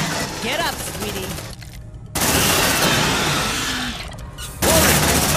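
Sustained suppressive gunfire from the sci-fi game Aliens: Dark Descent, loud dense bursts that cut out briefly and resume, with voiced squad callouts mixed in.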